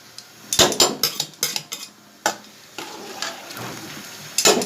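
Soaked rice goes into a pot of boiling water for beef pulao, with a series of sharp metallic clanks and scrapes of a spoon against the pot over a low bubbling hiss.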